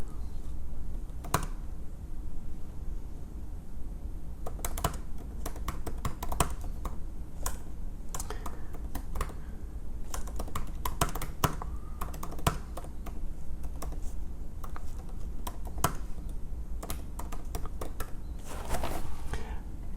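Keys clack steadily on a computer keyboard in a classroom as students enter a question, with irregular bursts of taps near and at a moderate level, no talking.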